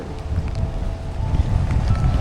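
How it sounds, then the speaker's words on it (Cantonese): Strong wind buffets the microphone in rough, rushing gusts, loud and continuous with no voices. "好大風，好大風！"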